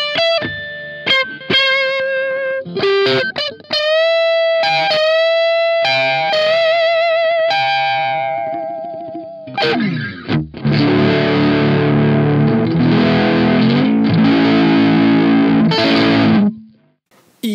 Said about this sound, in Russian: сейчас я играю на Orange, выставив гейн на максимум, тон на середину